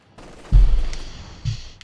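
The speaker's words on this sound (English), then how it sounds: "suffering the wrath of a lot of machine gun bullets here from the Grenadiers MG42" MG42 machine gun fire from German Grenadiers in the video game Company of Heroes 2, two loud close bursts of rapid gunfire about a second apart, with no talk.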